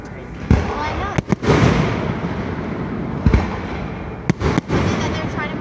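A Memorial Day fireworks display at Margaritaville on Lake Lanier, Georgia, sends out several sharp booming bursts scattered over a crackling, rumbling background, with people talking between the explosions.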